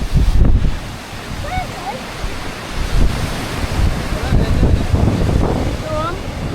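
Ocean waves break and wash onto the beach at St Ives under heavy wind buffeting. Faint calls rise now and then above the surf.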